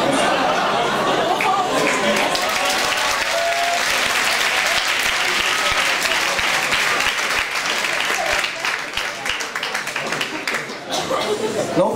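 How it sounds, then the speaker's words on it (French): Sustained audience applause at a student debating contest, loud and dense with scattered cheers and chatter, tapering slightly toward the end. "Non, continuez d'applaudir, ça fait plaisir"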